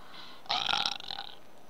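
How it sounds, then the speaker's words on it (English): A single loud, drawn-out human burp lasts close to a second, rising sharply and then trailing off, heard alone with no talk around it. "That's the first time you heard me burp,"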